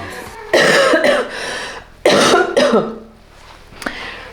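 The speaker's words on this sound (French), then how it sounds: "Je fais que tousser." Two harsh bursts of coughing, each a short fit of several coughs, close and loud, followed by a quieter throat sound.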